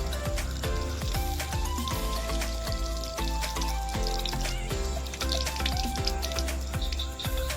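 Tap water runs steadily into a sink while hands are rinsed after handwashing, a continuous splashing hiss with small droplet clicks, close and alone without talk.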